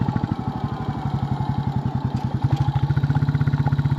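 Royal Enfield Bullet 350 single-cylinder motorcycle idling close by outdoors, a steady, loud, even thumping beat that grows slightly firmer toward the end.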